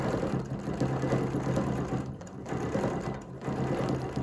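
A sewing machine stitches a quilt along a ruler line, running in a steady loud hum with a brief slowdown near the middle before resuming.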